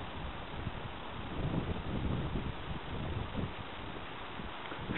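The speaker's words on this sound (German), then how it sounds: "Stürmt aber auch heute ein bisschen." Stormy wind gusting outdoors in a garden, a continuous faint rushing roar buffeting the microphone, with rustling swells rising and easing across the whole stretch.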